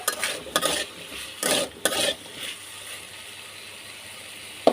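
Potatoes are stirred in a pan with a utensil in several short scraping bursts, with a quieter sizzle between strokes and no voices.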